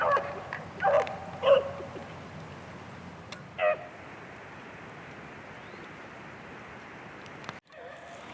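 Hunting dogs on a rabbit chase near a wet riverside bluff give a few short distant yelps and barks in the first few seconds, then faint steady outdoor background noise.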